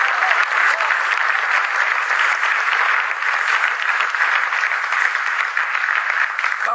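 A church congregation bursts into loud, continuous applause, a dense wash of clapping holding steady from start to finish with little else heard.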